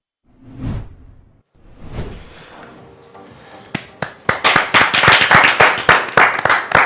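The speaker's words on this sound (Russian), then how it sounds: "громкие аплодисменты" An audience at a televised Tatar heritage talent show starts clapping after a few scattered swishes and taps, building into fast, loud rhythmic applause over the last few seconds.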